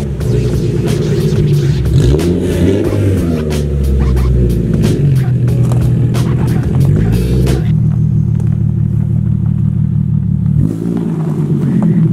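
Nissan 370Z engine revs loudly up close through its exhaust, rising and falling in several throaty pulls before settling to a deep idle burble, then one more short blip.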